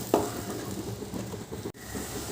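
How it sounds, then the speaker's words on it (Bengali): Spice paste for a yam kofta curry frying in a pan, a steady hiss with one clink of a utensil near the start as it is stirred, with no talk. "এবার ভালো করে মশলাটা কষিয়ে নিতে হবে"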